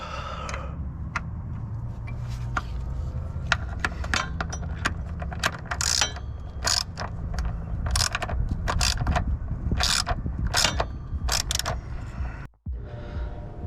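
Hand wrench tightening nuts on a polyurethane transmission mount of a BMW Z3 (E36 platform) in a garage, with a steady run of close metallic clicks and ratcheting over a low mechanical rumble, ending in a brief quiet gap.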